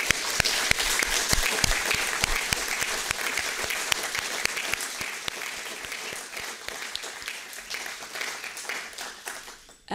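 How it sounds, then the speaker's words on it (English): Sustained audience applause at a metal-themed exhibition event, many hands clapping in a dense crisp wash that holds steady for several seconds before gradually thinning and tapering off. "please give them a great applause"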